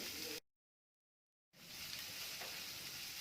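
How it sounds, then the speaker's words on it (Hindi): Finely chopped medium onion fries in a pan over low-medium heat, a bright close sizzle that cuts out to about a second of silence and then resumes steadily. "अब इसमें एक मीडियम साइज का बारीक कटा प्याज डालेंगे और इसे भी 1 मिनट तक भूनेंगे"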